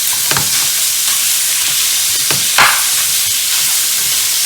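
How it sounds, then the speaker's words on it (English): Ground beef browns in a hot pan for a taco casserole, giving a loud, steady sizzle and hiss with a few stirring scrapes and pops, close up and with no talk. "brown your ground beef"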